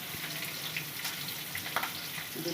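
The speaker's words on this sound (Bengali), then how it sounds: "আলু কি ভেজে নিচ্ছ?" Potatoes frying in oil in a home kitchen, a continuous close hiss and sizzle with faint crackles throughout, steady and moderately loud over the short span.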